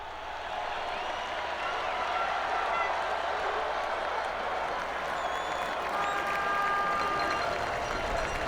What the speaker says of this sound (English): The Honda mechanics cheering at the podium are triumphant, and who can blame them?